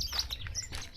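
Birds chirp and tweet with high, quick calls in a Kenyan village in Tetu, Nyeri, several short bursts over a soft outdoor background, moderately near and fairly quiet.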